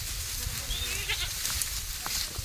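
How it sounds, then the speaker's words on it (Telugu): Goats bleat near a cashew orchard in a tribal hill village in Seethampeta, Manyam, heard as a few short, moderately loud bleats over steady outdoor background noise. "జీడి తోటకి వెళ్ళిపోతుంది మేకలు."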